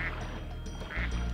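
Duck quacking in the video game Spyro 2: Ripto's Rage, set in the Mystic Marsh level; two nasal quacks ring out loud and close, one at the start and another near the end, over steady game background sound.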